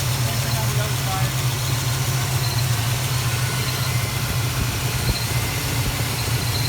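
A Plymouth Duster engine idles with both carburetor mixture screws turned fully in, a loud, steady low rumble close by, with a voice talking over it.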